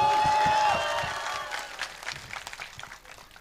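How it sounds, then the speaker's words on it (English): Applause for a film forum at a Manipuri community gathering rises after a brief tone, a scattered crowd clapping that thins and fades over a few seconds. "let's give a big round of applause for manipur film forum"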